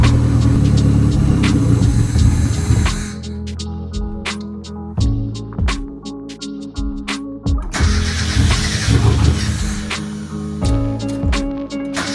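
A Mazda MX-5 drift car engine cranks and turns over in repeated bursts, sputtering and catching unevenly, loud and close, with pauses between attempts.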